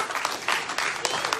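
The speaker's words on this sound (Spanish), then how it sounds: "le da un aplauso al Señor en esta hora" Church congregation at an evangelical service applauds, a brief burst of fairly close, dense clapping with uneven accents throughout.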